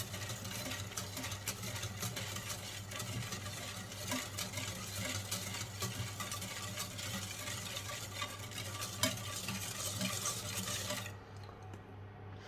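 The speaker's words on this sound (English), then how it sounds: "and then whisk it together, obviously. So the sugar and everything combines." A whisk stirs creme brulee custard with sugar and vanilla in a pot, a steady close scraping and swishing that runs continuously under a low hum before stopping abruptly.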